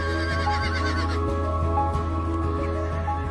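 A Przewalski's wild horse whinnies in a wavering call near the start. A steady low hum continues underneath, with faint clopping-like thuds.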